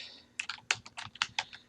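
Short burst of typing on a computer keyboard, about a dozen crisp key clicks in an uneven rhythm, close and fairly quiet, with no talking.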